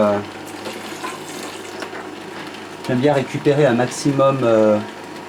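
Water runs and splashes while rinsing out an Optimum 600 juicer, a steady rushing stream up close, then a person talks over it for the last couple of seconds.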